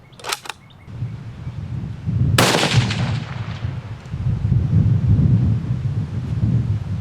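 A single loud .338 Lapua Magnum rifle shot cracks out in open country, its boom rolling and echoing over several seconds against steady wind noise, with no talking.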